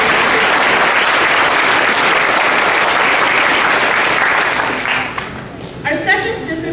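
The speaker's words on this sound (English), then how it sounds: "So let's give them a quick round of applause." Sustained applause from a banquet audience at a chamber of commerce awards event, dense and loud for several seconds before thinning out, with a voice beginning to speak near the end.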